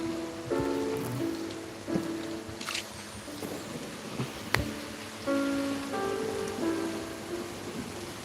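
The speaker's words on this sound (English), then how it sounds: "Oh, huh? It's raining!" Rain falls in the video game Genshin Impact, a soft pattering wash heard alone under layered tonal game sounds and a few sharp clicks.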